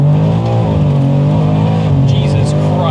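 A 1000 hp all-wheel-drive BMW M3 pulls hard in a low gear, its engine a loud, steady harmonic roar rising in pitch for about three seconds, with people talking over it.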